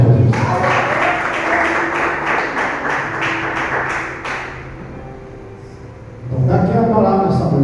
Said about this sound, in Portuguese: Bate palmas, Jesus.